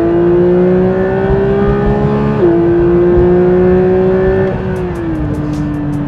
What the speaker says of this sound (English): The gear changes are so smooth on this gearbox compared to the old one